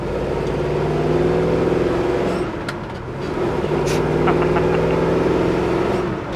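A 1969 Chevrolet Chevelle SS-style car drives down the road, its engine a loud, steady droning growl that builds, dips briefly as it shifts, then pulls strongly again, heard up close with no talking.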